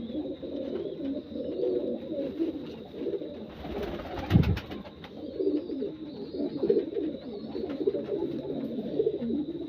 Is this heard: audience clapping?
no